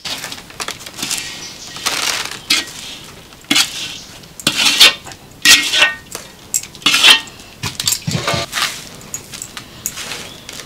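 A pot of chira laddu mixture with sugarcane jaggery and sesame being stirred and mixed by hand, giving irregular scraping and clattering bursts of utensil against pot, close and fairly loud, with brief pauses between strokes.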